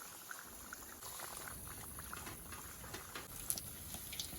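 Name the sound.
potato smileys frying in hot oil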